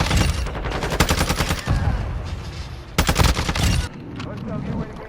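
Custom ISO Hemlock gunfire from a video game, heard as two loud rapid-fire bursts of close, punchy shots separated by a brief pause, with a quieter rattle trailing after.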